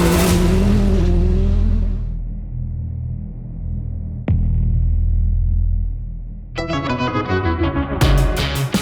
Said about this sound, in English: the roar of rally cars and the cheer of racing fans that will fill the forest